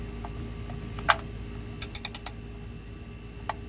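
A socket wrench loosening the oil drain plug on a 2018 Toyota Camry with a 2.5-litre A25A-FKS engine, one sharp click followed by a quick run of four ratcheting clicks, close and alone over a faint hum.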